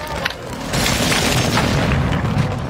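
A loud, deep explosion roar from an airstrike in a first-person combat video game, sustained as a heavy rumbling boom for a couple of seconds after a brief lead-in.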